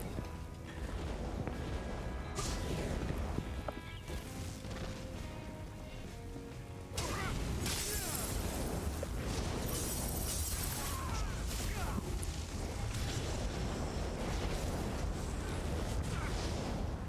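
Glass shattering during Elder Scrolls Online PvP in Cyrodiil: repeated crashing and breaking, dense and loud throughout, with a stronger burst of smashing about halfway through and voices talking over it.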